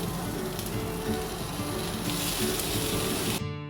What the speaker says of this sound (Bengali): আদা, মেখে রাখা চালগুলো দিয়ে দিচ্ছি